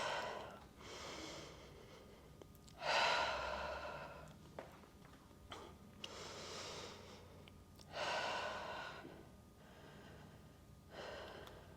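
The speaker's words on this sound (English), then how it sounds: "in through the nose, out through the mouth with that breath" Slow, deliberate breaths during a Pilates reformer workout, each drawn in through the nose and pushed out through the mouth, come as several loud, airy exhales at steady intervals, close and alone.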